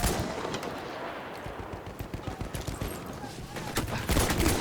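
Rapid bursts of gunfire from a scoped weapon in a video game crackle in quick succession, fairly loud and dense throughout, with a louder flurry near the end.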